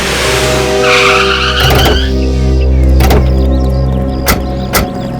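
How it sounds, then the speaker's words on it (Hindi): A car's tires screech as it brakes to a stop over engine rumble, followed by a few sharp clunks. "बस सर, गाड़ी रोक दीजिए यहीं पे सर।"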